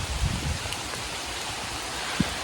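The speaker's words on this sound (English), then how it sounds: "So I'll let you listen to the sounds of the rain." Rain falling steadily outdoors during gardening on an overgrown grass verge by a driveway, a dense even hiss of drops with a single louder tap near the end.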